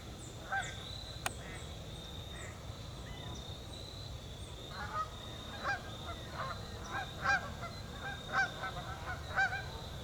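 Geese and other waterfowl honking at Hinckley Lake, a scattered series of nasal honks at moderate distance over a soft outdoor background, growing more frequent in the second half.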